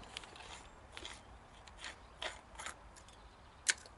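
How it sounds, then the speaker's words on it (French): Adjustment screw being unscrewed from a ball joint on a Citroën Traction 11 during suspension work, dry metallic ratcheting clicks and scrapes in scattered bursts close by, no speech. "Je dévisse la vis de réglage de ma rotule"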